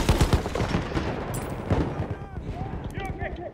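Rapid automatic gunfire in Battlefield 1 fires in dense repeated bursts, loud and close, with more shots and in-game effects layered over each other.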